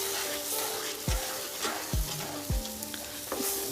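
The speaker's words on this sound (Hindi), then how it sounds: "अब हम इसमें डाल देंगे दूध। मिक्स कर लेंगे अच्छे से।" Milk stirred into roasted gram flour in a pan for besan halwa, a steady soft sizzle with a few dull scrapes of the spoon against the pan at irregular intervals, fairly quiet and with no talking.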